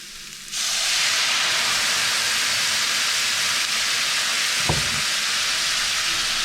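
Dry sherry hitting a hot pan with pork chops bursts into a loud, sustained sizzle and steamy hiss, with a brief knock of a utensil stirring the bottom midway.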